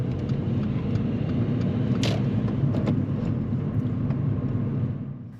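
A car rolls downhill through a 20 mph zone, a steady, fairly loud low road and engine rumble from inside the cabin that fades slightly at the end.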